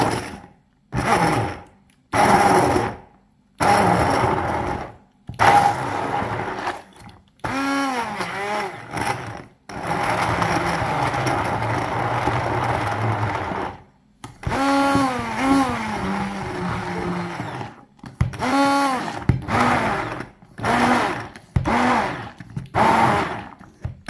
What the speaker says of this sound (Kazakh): Енді осы погружной блендермен езіп аламыз.